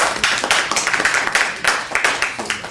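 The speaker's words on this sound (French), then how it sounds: "si vous applaudissez" Audience applause after a speech at a Congolese election gathering, a loud, close burst of clapping with a fairly regular rhythm of distinct hand strikes.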